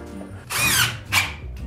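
A power drill drives screws into drywall: two close, loud whirring bursts rise in pitch with a slight squeal. A duller mechanical rumble sits between the bursts, and no one speaks.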